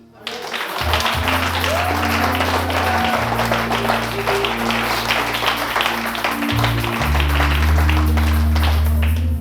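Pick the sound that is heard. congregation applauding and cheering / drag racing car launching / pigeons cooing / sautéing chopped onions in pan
congregation applauding and cheering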